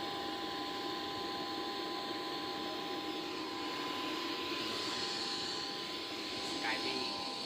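A steady airplane engine drone heard from inside a narrow aircraft cabin fills the whole stretch, a continuous broadband roar with a faint tonal whine, low in level and unchanging.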